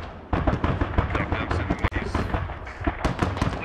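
Video game rockets and gunfire set off rapid, dense explosions and shots for a few seconds, loud and close, while players talk over the battle.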